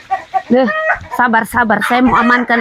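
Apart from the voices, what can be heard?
chickens clucking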